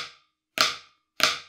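Marching snare drum played as flams: sharp, bright cracks with short ringing decays, the tail of one stroke fading before two further strokes spaced about half a second apart, close and alone.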